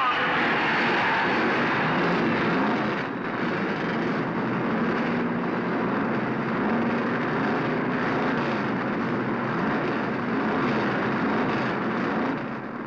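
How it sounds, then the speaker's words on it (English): Stock car engines at the 1970 Darlington Southern 500, a Dodge and Pearson's Ford among 40 cars, roar together with the crowd, giving a dense, loud, steady wall of engine noise that holds for the whole stretch. "The engines and the crowd come alive together."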